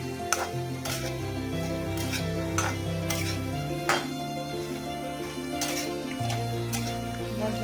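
Fox nuts (makhana) are stirred as they fry in a pan, with a spatula scraping and clicking at irregular intervals over a soft sizzle and steady background music.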